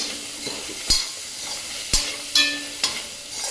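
Browned onions, spices and tomato frying for a turnip and fenugreek bhurji, a steady close sizzle broken by several sharp scraping stirs against the pan, with no voices.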